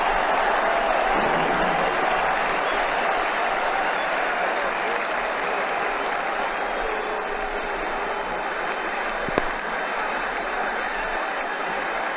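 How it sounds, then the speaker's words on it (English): A cricket crowd at a 2009 Ashes-series Test in the stands, Australia versus New Zealand, roars and applauds a six with steady, dense clapping and cheering that sustains throughout, loud and continuous with no talk over it. "6 runs and the crowd are loving it."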